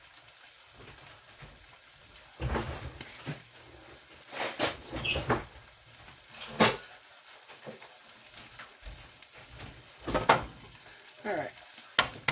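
Eggs being scrambled in a frying pan give a soft sizzle and gentle scraping as a spoon stirs, with intermittent taps and clinks against the pan, fairly quiet and close, and a brief spoken word.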